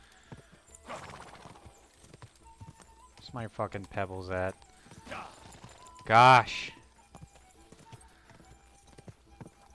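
Rhythmic clip-clop of horse hooves runs throughout the video game Kingdom Come: Deliverance 2, with a horse whinnying and a person exclaiming briefly over the galloping.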